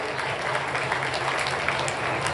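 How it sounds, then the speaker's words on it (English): Steady applause from a crowd, a continuous patter of clapping at moderate volume with some faint voices underneath. "Round of applause for MVK."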